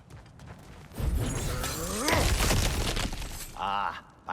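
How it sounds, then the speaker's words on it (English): Breakable objects shattering and crashing in God of War Ragnarök, a loud burst of cracking debris lasting a couple of seconds, followed by brief in-game voices and a short tonal effect. "back to smashing through things for fun and profit"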